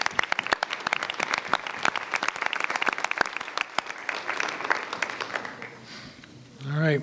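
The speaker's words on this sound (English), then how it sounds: "Could we have one final round of applause for all those students with perfect scores?" A school board meeting audience gives a round of applause for students with perfect scores, brisk dense clapping that thins out toward the end before a voice starts speaking.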